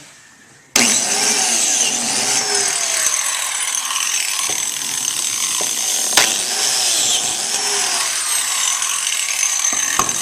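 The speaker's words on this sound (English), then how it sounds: "Clamp that down and biscuit that out" A biscuit joiner cuts slots into clamped wood for an end table, its motor whining loud and steady right after a sharp start, with brief blade bites and clicks marking each plunge into the board.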